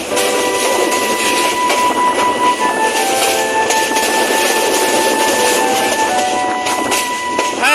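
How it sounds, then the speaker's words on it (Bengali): A train rumbles steadily along the rails nearby in the Bhatera area of Sylhet, loud and continuous, with metallic squeals and a rhythmic clatter of wheels. "যেটা অনেকেই বাল্যকালে সেই ট্রেনের শব্দ শুনতে পছন্দ করতেন"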